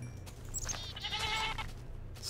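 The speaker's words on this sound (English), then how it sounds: "They're goats" Goats bleat in Minecraft with the Technic modpack, several wavering cries overlapping at close range over a steady low game hum, with no talk.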